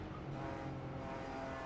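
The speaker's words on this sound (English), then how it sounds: "You got a BMW coming." A BMW race car on a circuit during an endurance-class race, its engine a steady droning roar close by, with no voices over it.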